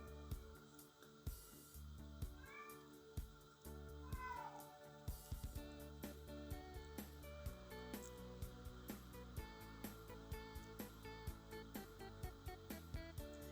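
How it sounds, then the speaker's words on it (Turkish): A couple of short kitten meows sound faintly amid rhythmic tapping and clicking of rattan being woven into a basket, repeating steadily throughout. "Kedimin sesi de videoda ara ara duyuluyor tabii ki."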